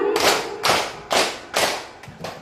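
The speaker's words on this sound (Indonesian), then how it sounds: "tepuk 4 kali" A classroom group claps in a quick, even series of sharp, close slaps spaced roughly half a second apart, each clap ringing briefly before the next.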